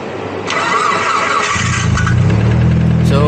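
Mitsubishi Lancer Evo 7 with a faulty starter whose bendix gear keeps engaging: the starter whirrs, then the engine catches and settles into a steady, close idle.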